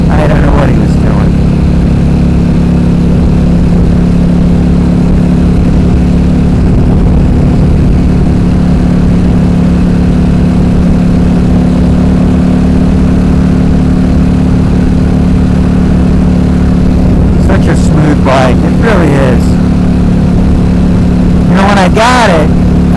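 A 2011 KTM RC8R V-twin sport bike with Akrapovic exhaust, quick shifter and slipper clutch, ridden with a loud, steady engine drone that holds for a long stretch before a few rising rev swells near the end.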